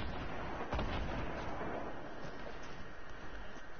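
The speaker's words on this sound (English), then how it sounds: "And you're being sniped at from the right." Gunfire in the Fortnite video game, with sniper shots coming from one side, heard as a dense, continuous barrage of cracks and booms at a steady loud level throughout.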